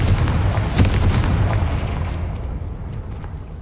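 A Confringo spell explosion in the game Hogwarts Legacy, a loud booming blast with a crackling burst that rolls off into a fading rumble over a few seconds.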